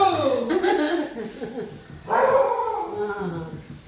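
A dog whimpers and howls in drawn-out, wavering whines that rise and fall, close and fairly loud, with a second howl starting about halfway through.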